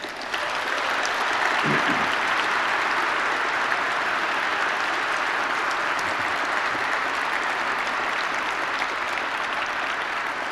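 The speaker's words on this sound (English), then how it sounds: "I ask you please to give them another round of applause" An audience at an award dinner gives a long, steady round of applause, many hands clapping together in a continuous roar that holds at full strength throughout.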